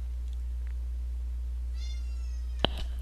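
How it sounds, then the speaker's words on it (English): A house cat gives a short, faint meow near the end, heard over a steady low electrical hum in a quiet room. "Cat likes to sit right next to me."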